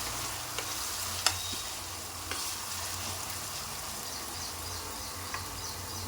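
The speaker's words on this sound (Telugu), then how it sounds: "పచ్చివాసన పోయే వరకు ఫ్రై చేసుకోవాలి అల్లం వెల్లుల్లి పేస్ట్ని" Ginger garlic paste fries in a pan for goat head curry, giving a soft, steady sizzle with a few sharp clicks and taps from stirring, close but fairly quiet, no voices.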